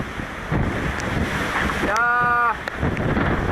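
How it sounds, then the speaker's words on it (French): Strong squall wind roars across the microphone with rushing water and waves around a racing sailboat in the Doldrums, about 23 knots, and a brief tonal whine rises partway through. "c'est notre dernier grain pour la sortie du poteau noir"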